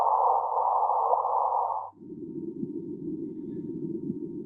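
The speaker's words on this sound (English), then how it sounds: "that's the sound of two black holes merging." Sonification of gravitational waves from two merging black holes: a steady electronic tone holds for about two seconds, then drops abruptly into a lower, rougher buzzing drone that continues to the end, loud and alone.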